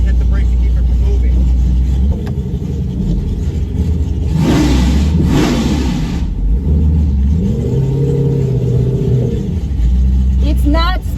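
Supercharged 2018 Ford Mustang with a Whipple blower revving on a track, a loud steady engine drone swelling into a throaty surge mid-way before settling, with people talking over it.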